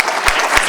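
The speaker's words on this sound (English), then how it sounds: "let's give them a big round of applause one more time" An audience at a school essay contest award announcement claps in a brief, dense burst of applause.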